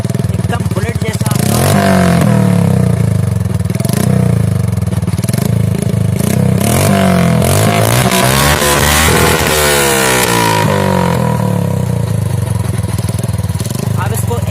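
A motorcycle fitted with a new aftermarket silencer, revving hard with a loud, close, throaty rumble that rises and falls through repeated throttle blips.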